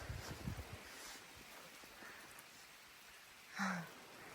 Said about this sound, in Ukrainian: і сніг, і дощ разом